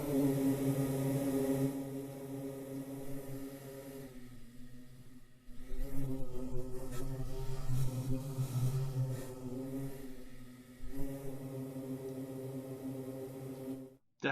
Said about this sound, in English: Definitely the sound of bees being granulated, quite a sustained sound.